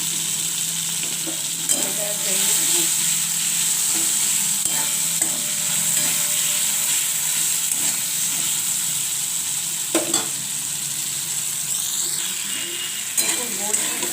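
Potatoes frying and being stirred in a pan while cooking a traditional Bengali palta-leaf dalna with bori, with a steady sizzle throughout and occasional clinks of the spoon against the pan.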